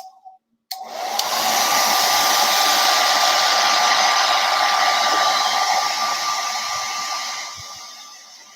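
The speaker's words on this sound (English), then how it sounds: "I'm going to hit it with the blow dryer real quick" A hair dryer roars steadily at close range for several seconds, a constant broadband whoosh with a faint whine, tapering slightly near the end.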